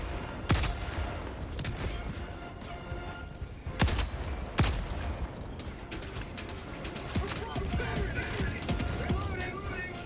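Rapid bursts of gunfire in the video game Helldivers 2, sharp cracks and sustained automatic volleys with distant explosions, overlaid by voices talking over the combat.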